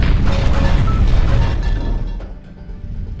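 A violent coal dust explosion deep in the Kianga coal mine in 1975, heard as a loud, sustained broadband roar and rumble that slowly thins and fades over a few seconds, with no voices.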